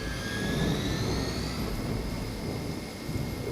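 A Hydra helicopter in the Marvel's Midnight Suns video game gives off a loud, continuous engine roar with a rising whine, steady throughout.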